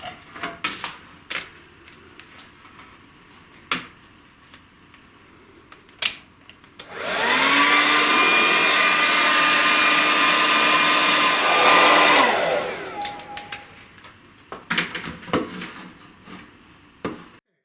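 A hair dryer drying a freshly painted acrylic peony canvas switches on and blows a loud, steady whirring roar for about five seconds, then cuts off, with scattered clicks and clatter of handling before and after.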